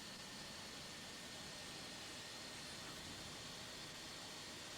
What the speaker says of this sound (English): So yeah, these are these beautiful Rolls-Royce Trent engines.